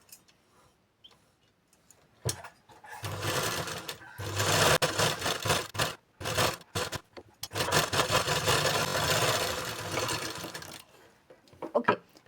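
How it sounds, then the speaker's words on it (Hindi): Sewing machine running in bursts while stitching the lining of a blouse, a close steady mechanical whir with a soft ticking rhythm, starting and stopping with short pauses between runs. "लाइनिंग की ओर रखना है और इसके ऊपर पे धार सिलाई लगाना है"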